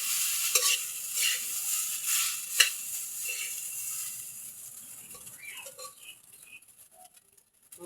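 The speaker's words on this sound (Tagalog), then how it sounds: "Ayan, haluin." Food is stirred in a frying pan as it cooks for breakfast or lunch, with soft sizzling under repeated scraping and patting strokes. The sounds are close but quiet and fade gradually toward the end.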